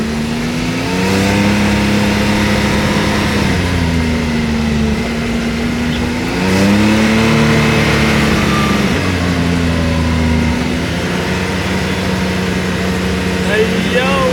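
A Toyota Supra engine fitted with a turbo, revving in rising and falling swells over a steady drone, heard from inside the car while people talk loudly over it.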